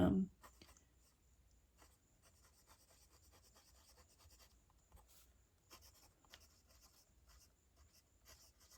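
A Platinum Procyon fountain pen with a medium nib scratching diagonal lines and squiggles across paper, a faint close rasp in short strokes with small gaps, heard alone after a brief thump at the start.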